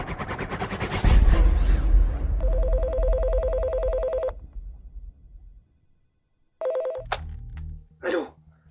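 An old-style telephone bell rings loudly in long continuous bursts, pausing and then ringing again, close and clear with no voices over it.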